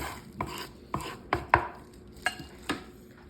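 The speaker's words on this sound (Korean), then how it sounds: "이걸 정말 이렇게 먹기 좋은 사이즈로 잘라보겠습니다" A knife slices mini kimbap rolls into bite-size pieces on a board, producing about eight crisp, evenly spaced chops, close and distinct, with no talking.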